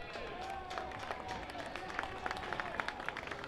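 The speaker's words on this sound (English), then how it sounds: "Let's take a moment to applaud their accomplishments." An audience applauds an athletic hall of fame and alumni board at a school football event, a scattered patter of clapping that grows denser toward the end under a faint murmur of voices.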